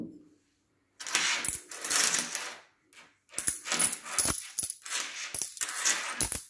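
Bursts of small coins, the French centime pieces, cascade into a glass candle jar, clinking and rattling loudly and close in several pours separated by short pauses, with no talk.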